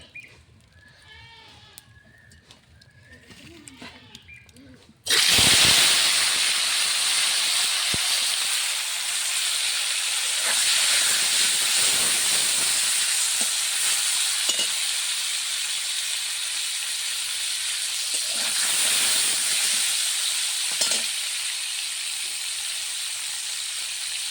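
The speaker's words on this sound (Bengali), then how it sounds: "মাছগুলো সুন্দরভাবে ভাজা হয়ে গেছে" Fish fry in hot oil with a loud, continuous sizzling hiss that starts abruptly after about five quiet seconds and holds steady to the end.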